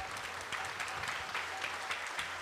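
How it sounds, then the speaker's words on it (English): An audience claps after a class at a Sunday program, a steady moderate round of applause from a room of people that continues throughout. "Let's all give another round of applause for that wonderful and very sweet class"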